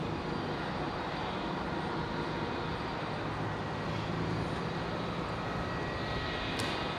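Qantas 520, an airliner on final approach into Brisbane, gives a steady broadband engine rumble and rush, constant in level throughout with no clear rise or pass, heard alone without talk.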